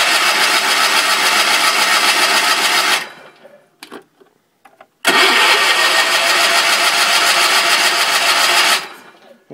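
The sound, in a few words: 1974 Sears Suburban SS16 tractor engine being started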